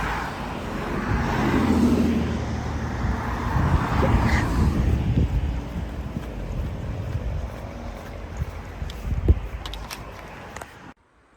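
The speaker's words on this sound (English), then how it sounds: "Loads of cars." Cars passing on a busy road near Cold Ashton along the Cotswold Way, a rolling swell of traffic noise rising and fading with wind buffeting the microphone.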